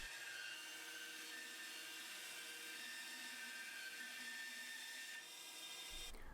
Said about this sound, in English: Then I can take it over to the bandsaw and get these cut.